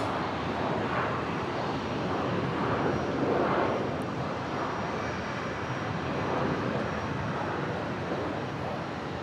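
Aircraft at Brisbane International Airport, a steady broad engine roar holding for several seconds with a slight swell partway through, distant and continuous without talking.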